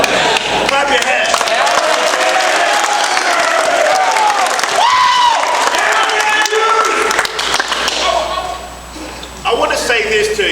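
High school varsity football team clapping hands together in a crowd, bursts of loud rhythmic applause mixed with cheering and laughter, a speaker's voice over it.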